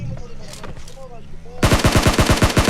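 A rapid burst of loud gunfire erupts in Battlegrounds Mobile (PUBG Mobile) after a quieter stretch of ambient game sound, shots firing in a fast, steady rhythm close by.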